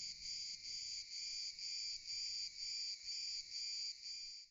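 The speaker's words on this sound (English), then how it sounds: "just cicadas" Cicadas buzz in a shrill, pulsing drone, throbbing in regular beats about twice a second, alone and steady until it cuts off.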